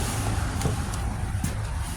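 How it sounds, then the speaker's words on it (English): A bus rumbles past nearby, a steady broad low engine and road roar with faint clicks and rattles, no voices over it. "oh yeah, that's the bus"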